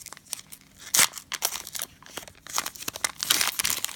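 A Panini Prizm basketball cello card pack being torn open: crisp crinkling and plastic tearing in irregular bursts, close and continuous, with no talk.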